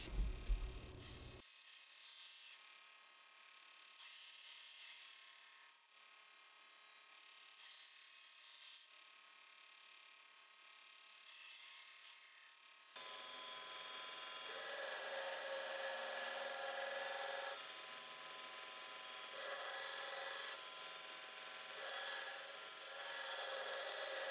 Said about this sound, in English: Now I'm going to go ahead and finish grinding the bevels.